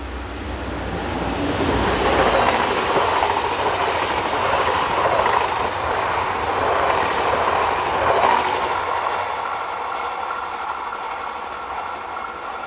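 A northbound passenger train hauled by locomotive 17067 on a line into the Paris region rolls past, a loud, steady rumble and rush of wheels and carriages that swells and then gradually fades.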